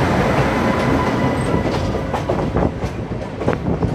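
A train hauled by a WAP 5 electric locomotive arrives at Jammu Tawi station, loud and close, with continuous rumble, rhythmic clickety-clack of wheels over rail joints and brief metallic squeals.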